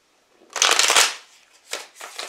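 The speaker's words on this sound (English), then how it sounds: "One more shuffle and we've got it." Tarot cards being shuffled: a long dense riffle of flicking cards, then two shorter bursts of shuffling close by, with no talking.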